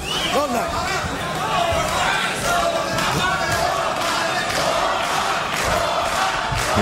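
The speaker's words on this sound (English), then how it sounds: "Hear the crowd here in Glendale chanting for Roman" A boxing crowd in an arena in Glendale chants steadily throughout, a dense, continuous roar of many voices with rhythmic swells, loud and surrounding, with a commentator's voice running over it.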